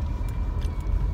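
Steady road rumble inside a moving car, a continuous low-frequency drone with faint tyre and wind hiss, close and even throughout with no talking.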